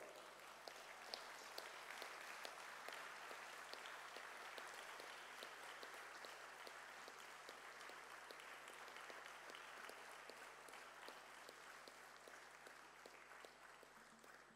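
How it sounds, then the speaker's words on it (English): Sustained applause from an audience at a formal induction ceremony during annual sessions, dense steady clapping held at an even level for the whole stretch, heard from a distance in a large hall. "Everybody, a round of applause."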